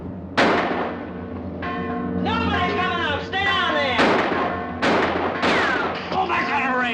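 Gunfire rings out in a 1954 western film shootout: about eight sharp shots come in quick succession, each trailing ringing, whining ricochet tones, loud and dense.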